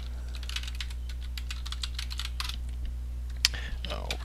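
Rapid typing on a computer keyboard, close clicking keystrokes in quick bursts over a low steady hum.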